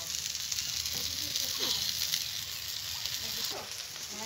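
Poppy seed paste sizzling as it is added to a frying pan for a cabbage dish, a steady broad hiss of frying throughout with a few soft stirring scrapes.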